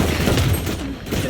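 Gunfire from a weapon in the tactical shooter Valorant, a dense burst of shots filling a brief moment at steady loudness.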